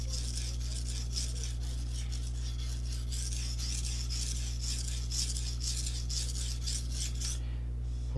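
A paring knife is drawn across a whetstone in quick, evenly spaced rasping strokes, close and steady, over a constant low hum.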